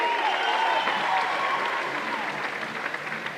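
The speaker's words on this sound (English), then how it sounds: "Nelson getting a round of applause from all the fans here in Rec Hall." Fans applaud a men's gymnastics meet between Ohio State and Penn State in Rec Hall arena, a steady, dense round of clapping from a large crowd that holds strong before easing slightly toward the end.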